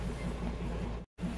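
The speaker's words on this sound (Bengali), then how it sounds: "চলো এই দেখো বাতাসিয়া লুপের ট্রেন" Darjeeling toy train at Batasia Loop gives a steady, close low rumble that runs without pause, cuts out abruptly for a moment near the end, then resumes.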